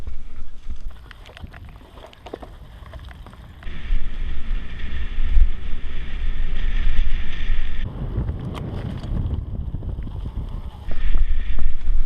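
A cold north wind buffets the microphone during a bike ride, with loud, rough gusts that swell and drop in distinct bursts, heard alone with no talk.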